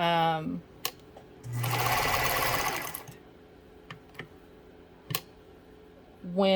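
A Pfaff 230 sewing machine stitches in a fast, even mechanical whir for about a second and a half, close up, between scattered clicks and handling taps, with a voice briefly at the start and end.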